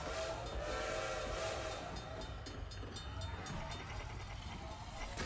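A train rumbles past with a sounding horn on the Train map in the video game Knockout City, a dense, continuous mechanical roar with a whistle tone, filling the mix steadily from start to end.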